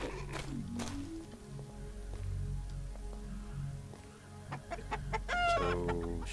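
Chickens cluck and squawk in the fantasy role-playing game Arx Fatalis, with repeated close clucks over a low ambient hum and a louder burst of squawking near the end.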